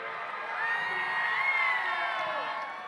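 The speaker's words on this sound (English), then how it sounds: "If you want to be on an Alliance, let me hear you cheer." A large audience at a FIRST Tech Challenge state championship robotics competition cheers and whoops loudly for several seconds, a sustained wash of shouting voices with some clapping.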